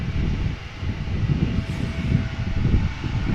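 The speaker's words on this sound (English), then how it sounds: "This is an Embraer 175 going to Aalborg. KLM flight 1335." A KLM Embraer 175 jet airliner at Amsterdam Schiphol Airport gives off a steady, broad engine roar, fairly loud and continuous throughout.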